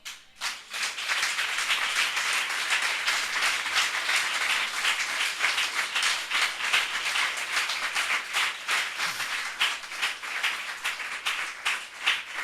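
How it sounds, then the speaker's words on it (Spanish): A church congregation applauding together, a dense and steady wash of many hands clapping that carries through the whole stretch, loud and full with no talk over it. "Dar un aplauso al Señor."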